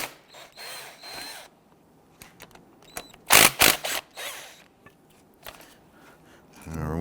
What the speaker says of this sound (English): I'm going to remove the slider pin bolts, separate the caliper from the bracket.